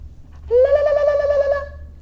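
A single high, warbling ululation tongue trill sung by one voice, loud and close, wavering rapidly in pitch for about a second before stopping over a quiet background hum.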